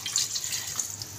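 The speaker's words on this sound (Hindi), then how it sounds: "अब हम इसको इसमें पानी ऐड करेंगे" Water pours steadily from a tap or jug into a pot of taro root and meat curry (arbi gosht), a brief, close, continuous splashing hiss with no talking.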